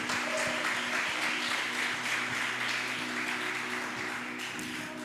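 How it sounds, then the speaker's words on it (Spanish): A church congregation bursts into sustained, dense applause, many hands clapping together loudly and evenly for several seconds before easing slightly. "Aplaude más fuerte."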